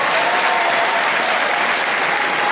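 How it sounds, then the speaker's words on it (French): Full audience applause fills the Grand Rex cinema hall in Paris at the Taxi 5 premiere presentation: a thick, continuous roar of clapping from a large crowd, loud and sustained throughout. "Applaudissez."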